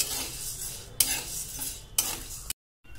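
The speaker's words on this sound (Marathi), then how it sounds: "काळी मिरी भाजा।" Black peppercorns dry-roasting in a pan rattle and scrape under a stirring spoon in short bursts, with a brief clean cut to silence near the end.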